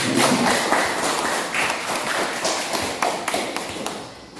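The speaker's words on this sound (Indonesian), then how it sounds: "Tepuk tangan." Scattered applause from a classroom of students, a steady wash of claps of mixed loudness lasting several seconds and thinning slightly toward the end, with no talking over it.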